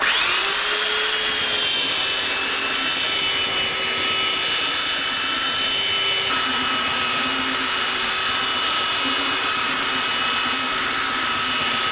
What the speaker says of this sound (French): je travaille à la ponceuse à bande